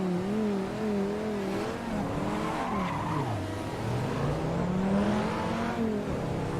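Viper V10 race car in Assetto Corsa at Spa, a loud continuous engine drone with rising and falling revs and gear changes, tire squeal mixed in, no talk.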